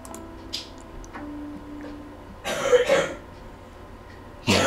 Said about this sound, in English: Excuse the coughing in the background.